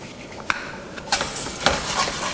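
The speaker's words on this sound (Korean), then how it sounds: "페이스트를 볶으실 때도 마찬가지로 약불에서 페이스트가 타지 않도록 볶아주셔야 됩니다" Tomato paste is stir-fried over low heat in a pan of golden-brown roux for brown gravy sauce, giving a soft sizzle under scraping spoon strokes that knock lightly against the pan several times.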